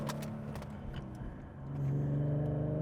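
A 3.7-litre V6 Ford Mustang, at 60,000 miles, rumbles along a country road, its engine droning steadily before the revs climb into a louder, rising growl under acceleration, heard close and alone.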